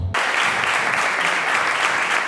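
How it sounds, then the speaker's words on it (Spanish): An audience at a 2021 community gathering breaks into loud, sustained applause that starts abruptly and holds steady, dense and close, with no voices rising above the clapping. "No me aplaudan, no me aplaudan."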